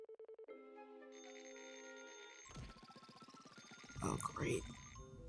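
Telephone ringing indoors, a series of rapid electronic bell trills that give way to a sustained tonal ring, then a clattering pickup and handling sounds near the end, with no voices.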